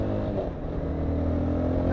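Honda CBR 250R motorcycle engine running steadily at close range, a continuous low throaty drone with rising intensity near the end, no voices over it.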